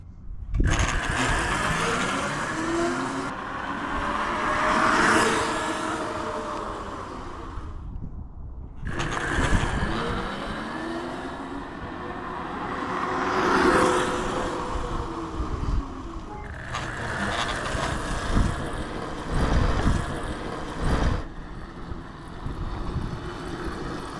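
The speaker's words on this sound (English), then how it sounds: "So the acceleration on this bike is pretty mean, especially considering how small the motor is." An Ebox electric dragster bike with a small motor accelerates three times in a row, each run a rising electric whine that swells and then drops away, with brief pauses between runs.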